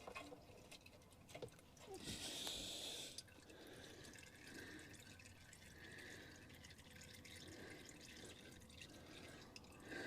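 Red automatic transmission fluid draining from a Holden HK gearbox makes a faint, steady trickle and drip, swelling into a brief louder splash early on before settling back to a quiet flow.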